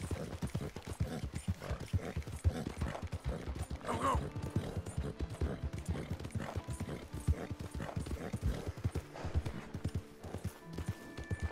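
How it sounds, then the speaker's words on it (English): Hooves clip-clop in a steady, quick rhythm, close and continuous, like a horse trotting along a hard path, in the video game Red Dead Redemption 2. "Ride this horse whole day."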